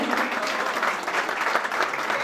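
An audience claps steadily for candidates being called onto the stage at an association meeting, a short burst of dense, even applause at moderate volume.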